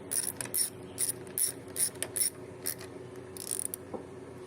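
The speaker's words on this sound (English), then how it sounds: "Take your 3/8 wrench and tighten up the intake manifold to the block." A 3/8 wrench tightens the intake manifold onto the block of a neglected 13.5 hp Briggs and Stratton engine, giving off a series of close, quick ratcheting clicks in short bursts with brief pauses between them, with no talking.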